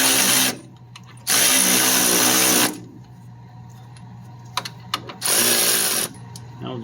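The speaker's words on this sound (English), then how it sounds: "I drilled the bottom holes" Power drill boring bolt holes during a 4.3 Vortec V6 swap into a Chevy LUV, heard as three loud, close, high-pitched whining bursts of about one to two seconds each, separated by quiet gaps with a few clunks.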